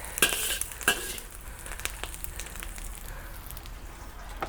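Food being stir-fried in a wok with spring onions and plenty of oil, a steady soft sizzle underneath with a few sharp clinks of a utensil against the pan near the start.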